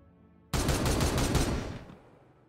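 Gunfire in the video game Warhammer 40,000: Regicide, a loud rapid burst of automatic fire starting abruptly and rattling for about a second and a half before cutting off.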